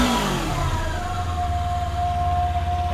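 A 250cc sport motorcycle engine revs up high and holds a steady, buzzing high-rpm drone, loud and close with no talk over it.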